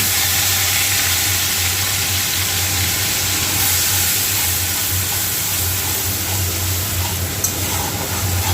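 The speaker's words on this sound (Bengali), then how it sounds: "এবার মশলাটা ভালো করে ভেজে নেবো আদাটা।" Ginger and spice paste fries in an oiled pan with a steady, close hiss and sizzle that holds evenly throughout, over a low constant hum.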